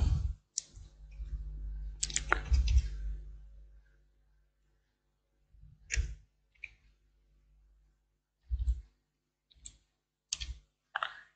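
Sparse mouse clicks during an online login on a computer, a few sharp isolated clicks spaced irregularly with quiet gaps, plus a louder rustling burst near the start.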